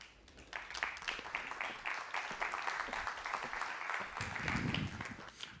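Conference audience at a Valencia tech forum applauding a guest taking the stage, scattered then fuller clapping rising and swelling near the end, moderately distant and fairly quiet.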